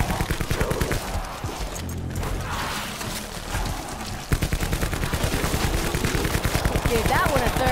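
Rapid automatic gunfire in Call of Duty Black Ops 4 zombies mode, dense rhythmic bursts of shots with mechanical clatter, loud and nearly continuous with a brief lull, with faint voices in the mix.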